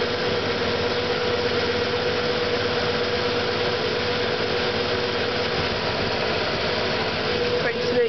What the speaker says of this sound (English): Listen to that idle. Sounds nice.